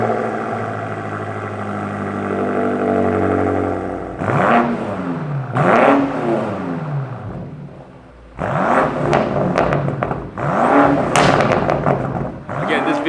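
A BMW M8 Competition with an aftermarket valved exhaust revs hard, loud and close, in several rising and falling blips with a deep booming note, pausing briefly between bursts before revving again.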